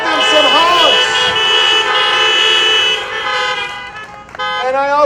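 Several car horns honk in a loud, overlapping chorus of sustained toots, outdoors at a high school freshman welcome event, with short gaps and a fresh burst of honking near the end.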